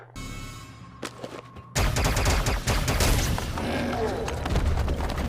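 Gunfire in a Mandalorian season 3 episode, a sudden onset of dense rapid blaster shots and booms that rolls on loudly after a quieter lead-in.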